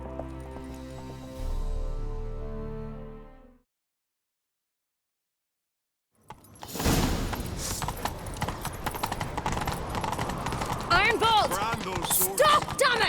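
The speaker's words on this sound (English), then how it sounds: "Grab a horse, we'll chase him down." Horse hooves galloping in The Witcher 3, a quick steady clip-clop that starts after a short silence and runs on loudly, preceded by tonal music and mixed with other game sounds.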